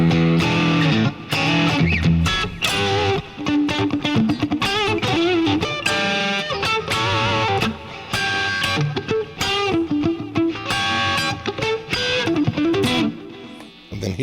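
A 2013 Fender Select Stratocaster HSS played through its humbucker pickup delivers a continuous run of distorted notes and chords, loud and alone, with a gritty, effects-heavy tone.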